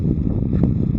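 Wind blowing across open farm fields, a steady low rushing buffet against the microphone lasting throughout, with a brief gust near the middle and no voices.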